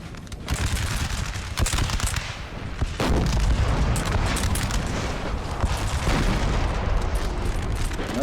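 Cannon artillery firing in the video game Napoleon Total War, with loud booms among dense, continuous battle noise of gunfire and rumbling blasts throughout.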